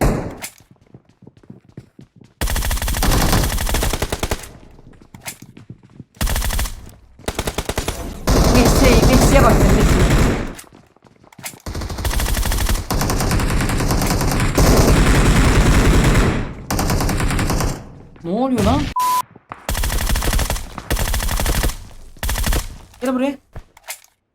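Sustained automatic fire from M416 and MG3 guns in PUBG Mobile, long loud bursts separated by brief silences, with a few short pauses and voices talking in between.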